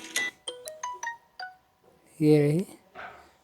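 A Samsung J7 Prime phone plays short ringtone previews: a run of bright plucked chime notes stepping up and down, then a brief buzzy tone, loud and close with quiet gaps between.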